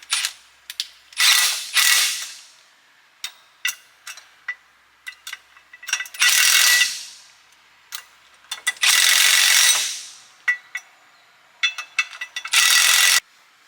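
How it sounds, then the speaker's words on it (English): Steering stabilizer clamp being snugged onto an axle housing with a ratchet: bursts of quick metallic clicking alternating with brief pauses and isolated ticks, close and fairly loud, no talking. "now we're gonna just snug this up"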